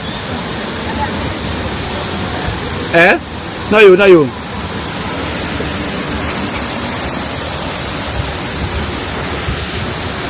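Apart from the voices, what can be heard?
river flowing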